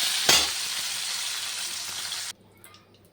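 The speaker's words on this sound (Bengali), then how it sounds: "কাজুটা আর কিশমিশটা দিয়ে দিলাম, এটা একটু ভেজে নিই" Cashews and raisins frying in hot fat in a pan, a loud close sizzle with a sharp burst near the start that runs steadily then cuts off abruptly, leaving faint clatter and quiet.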